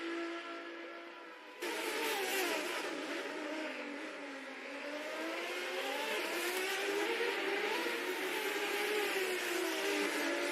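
Race cars in a virtual racing game, engines whining at high revs with rising and falling pitch as gears shift, steady and continuous after an abrupt start, no voices.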